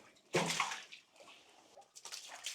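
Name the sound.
water washing mud off a horse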